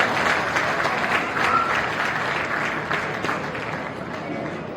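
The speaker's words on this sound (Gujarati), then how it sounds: "તો એક વખત જોરદાર તાળીઓ થઈ જાય છગન બાબા માટે" A large audience at a community religious gathering gives steady, enthusiastic applause for Chhagan Baba, an honoured elder. The clapping is sustained and mid-distance for about five seconds and eases slightly toward the end.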